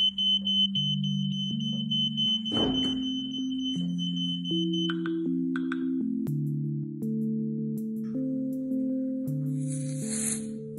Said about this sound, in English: this time triggering the smoke detector